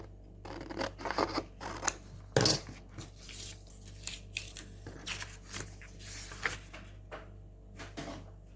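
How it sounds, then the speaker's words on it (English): Scissors snip the top line off printed craft paper for a mini junk journal slider box, giving quiet, close, irregular crisp cuts with one sharper snap early on and scattered handling rustles in a quiet room. "I'm just going to start by cutting off the top line with my scissors"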